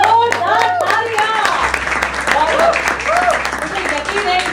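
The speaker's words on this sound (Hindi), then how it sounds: "एक जोरदार तालियां" Audience applause at a building-solutions store inauguration, a steady broad clapping wash from a crowd with a voice speaking over it throughout.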